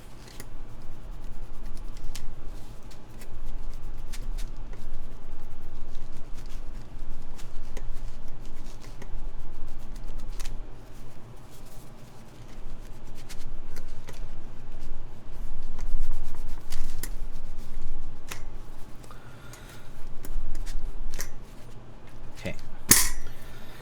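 Fingers swipe grease across an aluminum keyboard plate for a custom build with MX Black switches, making close, soft scratchy rubs and scattered small clicks and taps that come and go irregularly throughout.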